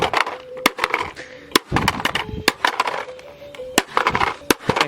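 A plastic LeapFrog Fix & Learn Speedy Race Car toy is smashed, with repeated sharp cracking impacts and crunching blows at irregular intervals, loud and close, with scraping between hits.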